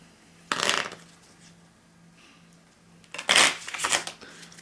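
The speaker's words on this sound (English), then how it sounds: "So, almost done shuffling here." Playing cards for a board-game review are shuffled by hand, two close riffling bursts with a quiet pause between them and soft handling noise.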